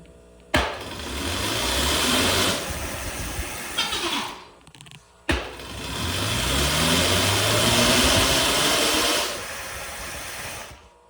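An e-bike with a new sprocket setup runs in its lowest speed, giving a steady mid-pitched motor whine with rising tones in two long runs, cut by a short pause around the middle.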